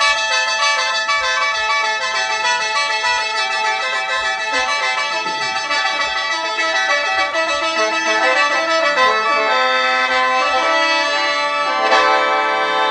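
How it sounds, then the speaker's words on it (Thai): Khaen, the Lao bamboo mouth organ, played in a lam-style piece: bright, reedy sustained chords with droning harmonics and quick melodic runs, loud and close throughout with no voices. "นี่คือเสียงแค้นนะครับ"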